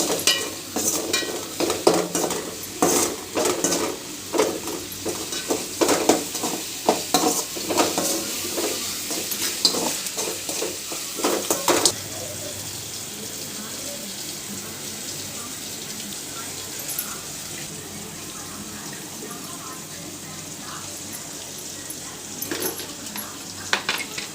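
Chicken rice with beaten egg is stirred and fried in a hot pan, giving a loud, continuous sizzle broken by rapid scraping and clattering strokes of the spoon for about half the clip, then a steadier frying hiss.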